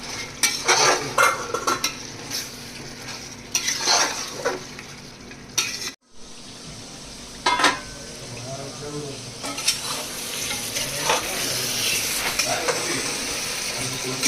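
A spoon stirs country chicken curry in a pan with poppy seed and coconut paste, scraping and clinking against the metal over a steady sizzle, with intermittent knocks throughout.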